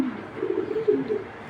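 A racer pigeon coos softly up close, a low wavering murmur rising and falling over about a second, alone against a quiet background.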